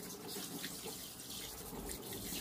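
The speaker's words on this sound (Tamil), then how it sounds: "இதை வந்து சோப்பெல்லாம் போட வேண்டாம், வெறும் ஸ்க்ரப்பர் மட்டும் வச்சு நல்லா கழுவி எடுத்துக்கலாம்" Clay pot being scrubbed and rinsed under running water with a scrubber, no soap, a steady close splashing and trickling that runs without pause.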